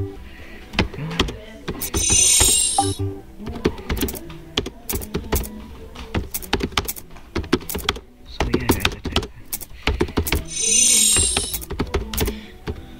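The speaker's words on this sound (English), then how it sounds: "We're basically typing the thing over and over again" Rapid clatter of computer keyboards being typed on in a school classroom, dense bursts of keystrokes with short pauses, close and fairly loud, with students chatting quietly underneath.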